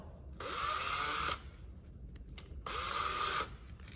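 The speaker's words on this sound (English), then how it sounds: "I took my drill" A power drill on a farm whirs loudly in two bursts of about a second each, with a short quieter gap between them.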